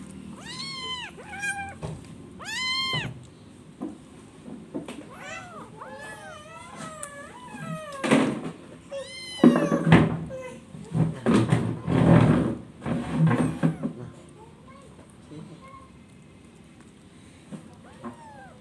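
Several cats meow repeatedly near the microphone while scrambling for food, high drawn-out cries coming one after another, with thumps and shuffling noises mixed in partway through.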